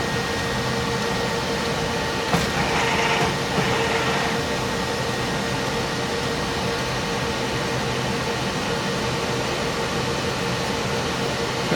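An HP Latex 115/315 printer runs its plot test after heating up, a continuous mechanical whir and hum with a brief swell of carriage movement early on, steady and close.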